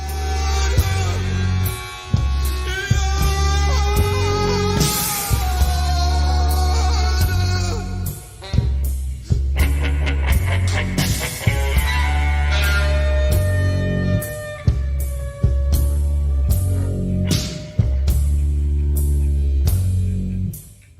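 A song plays loudly, with heavy low rhythmic hits, dense sustained tonal layers and sharp repeated accents across the whole stretch.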